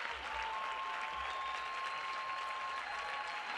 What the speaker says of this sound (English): And he gets a nice round of applause and high fives from his team.